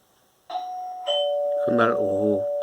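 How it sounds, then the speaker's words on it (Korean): A doorbell rings with two chime tones, followed by a voice speaking briefly over the lingering ring, close and clear indoors. "초인종이 울리면서"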